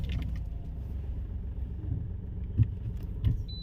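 A car pulling forward in first gear gives a steady low engine rumble close by, with a couple of brief thumps and light rattles.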